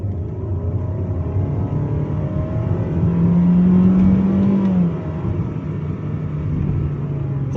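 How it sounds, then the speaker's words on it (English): Up close, a Honda City in sport mode accelerates using its paddle shifters. The engine rumbles, then its pitch climbs in a revving surge near the middle before it eases off, heard from inside the cabin without talk. "Let's see how this thing accelerates with the use of the paddle shifters."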